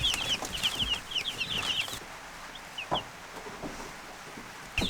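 Meat chickens in a backyard chicken run cluck and chirp in quick bursts, strongest in the first two seconds, then sporadic calls over a low farmyard background.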